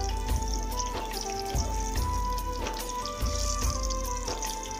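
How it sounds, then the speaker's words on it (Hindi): Kadhi pakoras sizzling in hot oil while being turned over, a steady close crackle with repeated soft knocks and scrapes, no talking. "तो इस तरह हम लोग पलटाते जाएंगे और फ्राई करते जाएंगे"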